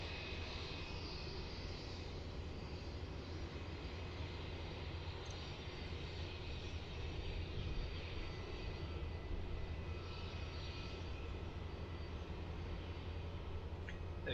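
Jetstar Boeing 787 airliner taking off from runway 16 at Melbourne Airport, a steady broad engine roar heard from a distance, holding even throughout with no voices.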